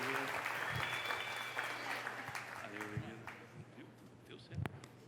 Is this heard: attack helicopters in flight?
no